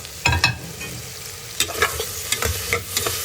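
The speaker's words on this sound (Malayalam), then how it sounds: "അത് നന്നായിട്ട് മിക്സ് ചെയ്ത് ചെറുതായി വാടുന്നത് വരെ ഇളക്കുക" Onion, capsicum and curry leaves are stirred in a pan, with a faint sizzle underneath and sharp spoon scrapes and knocks arriving in irregular bursts, close but fairly quiet, no talk.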